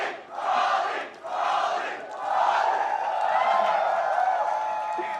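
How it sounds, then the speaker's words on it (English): A large crowd cheers and roars in an esports arena during a League of Legends quarterfinal, loud swelling waves of shouting and whooping that rise and fall, with a voice talking underneath toward the end. "Let them cheer for a sec."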